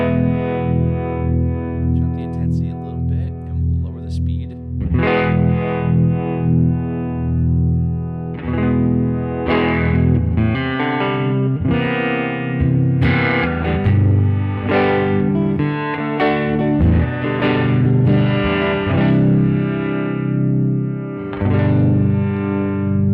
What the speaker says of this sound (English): And then you also have this really awesome harmonic tremolo